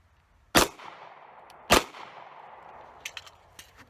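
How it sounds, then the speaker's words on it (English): Two loud, close pistol shots from an FNX 45 firing .45 ACP into a backpack, about a second apart, each ringing out briefly, followed by faint metallic clinks. "Next up, 45 ACP out of this FNX 45."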